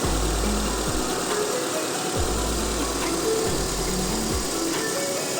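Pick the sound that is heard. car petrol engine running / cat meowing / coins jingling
car petrol engine running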